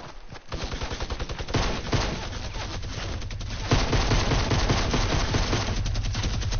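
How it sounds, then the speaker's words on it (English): Minigun fire in a video game, long rattling bursts of rapid gunfire that keep going with brief gaps, loud and close. "Stop shooting a minigun!"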